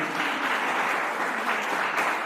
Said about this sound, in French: Donc je voudrais qu'on la salue, qu'on l'applaudisse.